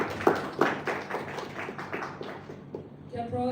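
Scattered hand claps from a small workshop audience, uneven and fading out after a few seconds as a voice begins.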